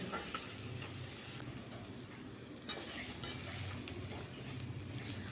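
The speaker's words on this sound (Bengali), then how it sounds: "আলুগুলো পেঁয়াজগুলোর সাথে ভাজা হয়ে যাবে" Potatoes and onions fry in a pan for a kudri jhal dish, giving a soft, steady sizzle with occasional spoon clinks and scraping from stirring. The sound is close but quiet, with no voices.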